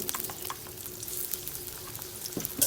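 Mashed okra frying dry in a little oil in a pan, a close steady sizzle with scraping stir strokes and a few louder clanks near the end, no talk.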